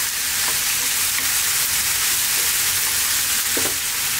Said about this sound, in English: We're going to continue cooking on this medium or above medium heat, stirring every now and then for about another 3 minutes.